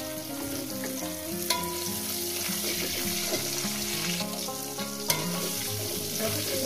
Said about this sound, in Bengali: গোটা জিরে দেওয়ার পর আলুগুলো আমি 4-5 মিনিট ভেজে নিই।